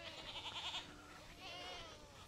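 Hungry goats on a farm bleat before feeding, a faint wavering bleat followed by a second, softer drawn-out call at a distance, with no talking over them.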